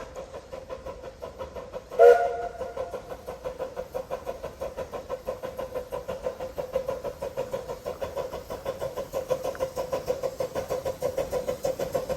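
Rhythmic chuffing of a steam locomotive on the Ravenglass & Eskdale Railway at steady pace, with a short whistle blast near the start, moderately distant.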